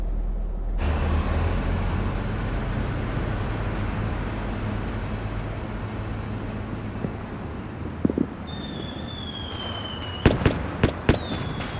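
Fireworks go off over a steady windy rumble: rising whistles of launching shells come first, then several sharp, loud bursts and crackles near the end.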